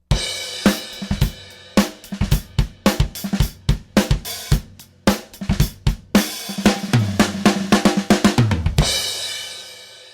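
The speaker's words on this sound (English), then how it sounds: "Now, all the mics combined together sound like this." A full drum kit plays a busy beat picked up by a four-microphone setup of a snare SM57 plus a pair of Sound Deluxe U95 overheads, with punchy kick and snare hits, constant cymbal wash and a ringing crash at the end.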